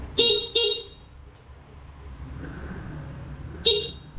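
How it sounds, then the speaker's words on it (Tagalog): A Honda BeAT Version 3 Premium scooter horn beeps three times, two quick toots in a row, then a pause and a third, loud and close over faint background noise. "Ngayon subukan natin ang kanyang busina kung malakas"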